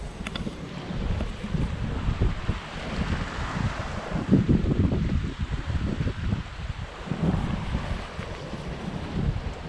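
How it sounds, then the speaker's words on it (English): Wind gusts across a sailboat running with following seas and only the mainsail up, a rushing, surging roar of air and water that swells and fades in waves, with no voices. "we're lucky enough to have some decent following seas and good wind"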